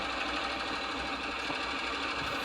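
A car engine knocking from unintended combustion gives a steady, rapid metallic ticking rattle over a continuous mechanical hum, close and even throughout.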